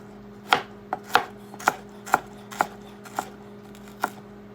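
Ingredients for potato egg salad chopped on a cutting board, about eight sharp, evenly spaced knife knocks over a low steady hum, close and clear with no speech.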